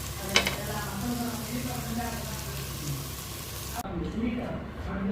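Bread-crumb coated fish fries on a tawa with a steady, close crackling sizzle and one brief clatter, while a person talks over it.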